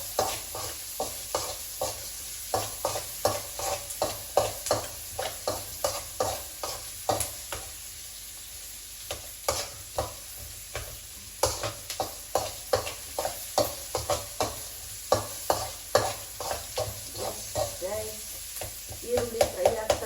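Onions fry in a pan while a utensil scrapes through them in steady, repeated strokes, each stir a sharp clack over a low, constant sizzle, close and fairly quiet.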